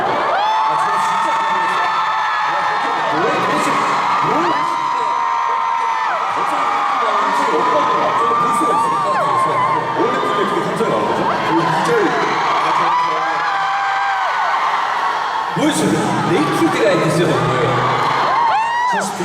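A concert crowd in Korea cheers, whoops and screams loudly and steadily at a performance, with high-pitched shouts rising and falling over a continuous roar.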